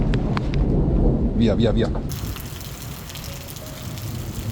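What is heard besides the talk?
heavy rain with thunder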